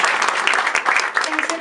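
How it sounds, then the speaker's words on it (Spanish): An audience at a panel debate on gender policy applauds for Claudia, a foundation member, with dense clapping holding steady and fairly loud for the whole moment, a few voices mixed in. "Pido un aplauso para Claudia."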